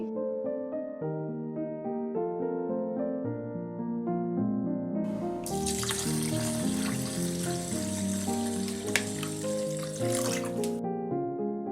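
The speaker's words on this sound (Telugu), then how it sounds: "బియ్యాన్ని రెండు మూడు సార్లు శుభ్రంగా కడుక్కుని నీళ్లు పోసుకుని" Soft music plays, then water splashes and sloshes for several seconds as rice is rinsed, before the music continues alone.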